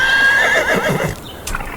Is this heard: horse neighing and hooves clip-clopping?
yes